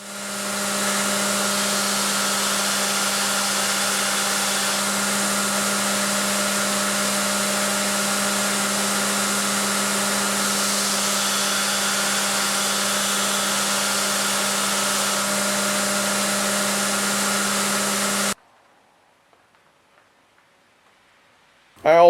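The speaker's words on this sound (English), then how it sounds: "Next, I'll grind in the bevel." Grinder cutting the bevel on a Damascus steel marking knife blade with coolant, a steady loud whine held for about eighteen seconds before stopping abruptly into near silence.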